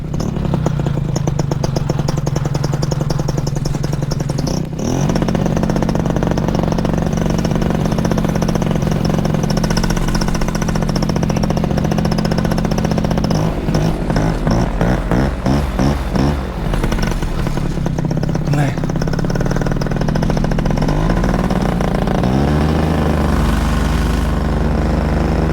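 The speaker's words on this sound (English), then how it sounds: "doing my engine run up time" A small high-revving nitro model aircraft engine drones continuously at close range during a run-up, its pitch wavering and surging now and then, loud throughout.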